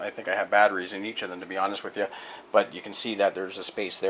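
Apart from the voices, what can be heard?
No distinct noise like a dog, phone or traffic.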